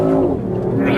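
A low carbon car accelerates hard, its engine giving a loud, close, steady roar for a brief moment.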